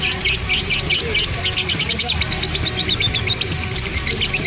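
A lovebird sings close by at a one-day lovebird contest, pouring out a steady run of rapid high chirps and trills, with crowd murmur and talk underneath throughout.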